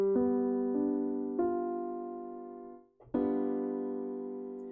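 A G dominant seventh chord rings out, struck repeatedly with sustained decaying tones, then briefly stopped and struck once more, clean and alone with no talking.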